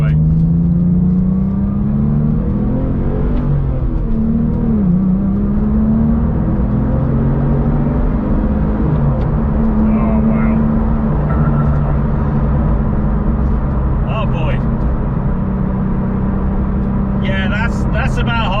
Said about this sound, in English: You can really feel the turbo spooling up.